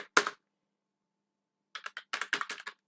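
Quick computer keyboard keystrokes while Python code is typed: a single tap, a pause, then a fast irregular burst of clicks, close and clear with no talk.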